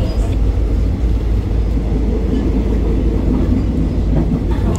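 A passenger train on a journey out of Bangkok rumbles steadily from inside the carriage, a loud continuous low roar with faint rattles and clicks of the wheels.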